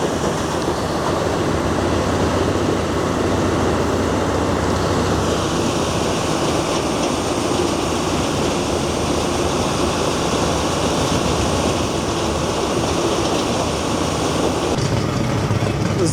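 A wood chipper's conveyor blows wood chips onto a walking-floor trailer in a winter forest, making a loud, steady roaring rush with a dense hiss of flying chips that continues without a break.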